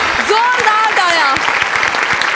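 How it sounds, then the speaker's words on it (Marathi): Loud, steady applause from a comedy show's studio audience, dense and continuous throughout, with a voice and musical tones riding over it. "जोरदार टाळ्या."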